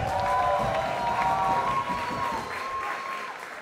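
Crowd at a K-1 kickboxing fight club event applauding and cheering, a dense, loud wash of clapping with whistles over it, gradually easing off toward the end.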